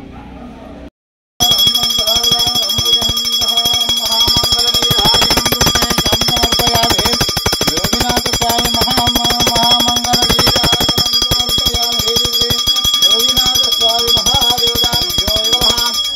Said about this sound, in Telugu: ఇది ఘంటానాదం సమర్పయామి